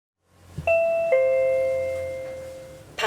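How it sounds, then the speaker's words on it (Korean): A visitor call bell at a school chimes two clear electronic ding-dong tones that ring out and slowly fade, followed by a brief clatter at the end; loud and close, no speech. "초인종을 누르자 호출벨에 불이 켜집니다"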